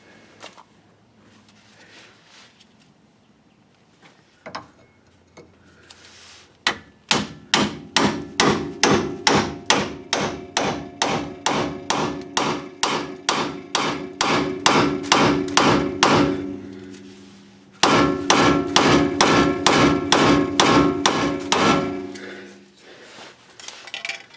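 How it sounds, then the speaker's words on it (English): A heavy hammer strikes a pickle fork on a Dodge Ram pitman arm repeatedly in a steady rhythm, dozens of loud ringing clanks, pausing briefly once before the pounding resumes. "I'm going to strike this with a nice heavy hammer"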